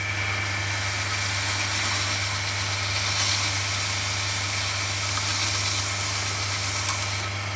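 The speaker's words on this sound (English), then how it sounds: "I'm just going to turn the motor on." A woodturning lathe motor runs steadily during spindle finishing, a constant loud hum with a low tonal drone and airy hiss, unbroken from start to end with no talk.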